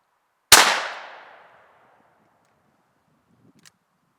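A single sharp shotgun blank report, 12 or 20 gauge, fired outdoors facing toward woods, cracks loud and close then rings away into a long fading echo, followed by a faint small click.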